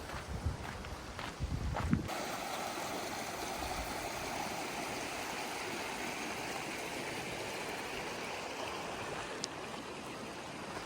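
Creek water flowing over rocks along a riverbed on a trail walk, a steady soft rushing wash throughout, with a few footsteps and brief handling bumps at the start.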